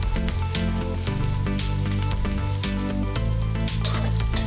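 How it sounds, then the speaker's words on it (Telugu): Thick-sliced onions sizzle and fry in a pan for chicken fry, a steady close crackle with occasional stirring, with background music and no talk. "ఈ ఫ్రైకి కొంచెం మందపాటి చిలికల్లా కట్ చేసుకుని వేసుకుని బాగా వేపండి."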